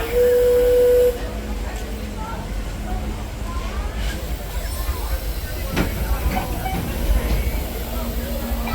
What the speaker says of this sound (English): trains are ready to depart